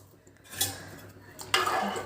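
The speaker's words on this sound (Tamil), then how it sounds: "நல்லா கலக்கி விட்டுடலாம்." A utensil stirs salt into rice water in a cooking pot for coconut milk rice, giving close metallic scrapes and clinks with a sharper swirl near the end.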